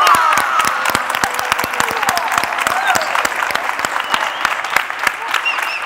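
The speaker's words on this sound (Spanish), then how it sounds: "así que este aplauso que vaya para ellos" Audience applause at a tech conference closing and awards ceremony: loud, sustained clapping with sharp individual claps standing out near the microphone, and scattered voices and cheers mixed in among the crowd.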